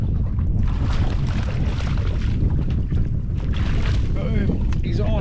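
Strong wind buffets the microphone on a fishing boat out on the water, a loud continuous roar with gusty surges and sloshing water underneath, while a voice can be heard faintly in the wind.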